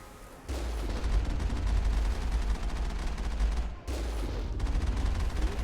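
A Gatling gun in Mass Effect fires a continuous, loud rattling stream that cuts off briefly near the end and then resumes at full intensity, with a heavy low rumble under the rapid shots.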